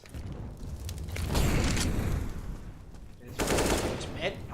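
Rapid gunfire bursts from a Counter-Strike match, loud and close, with a sustained volley from about 1.3 to 3 seconds and another burst near 3.4 seconds, amid ongoing game noise and faint commentary.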